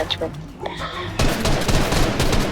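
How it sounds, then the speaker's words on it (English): Gunfire in an online shooter game, with sniper fire coming from a mountaintop; a few scattered shots at first, then a dense, loud burst of rapid firing that continues to the end. "there's somebody shooting from atop the mountain"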